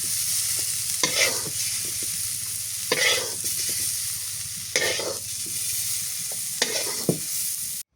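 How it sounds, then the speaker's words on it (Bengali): Steady oil sizzling as cauliflower fries in a pan, with a few louder scraping stirs breaking through at intervals; no voices. "কপি ভাজা হয়ে গেছে নামায় আনি"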